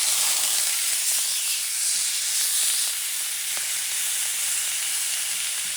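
A steak sizzles loudly in a hot pan on a home stove just after being flipped, giving a steady, close, bright hiss with small crackles and no talking.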